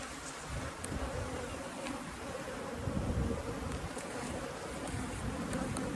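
A dense, continuous drone of many honey bees inside a hive fills the space up close, loud and unbroken with no talking.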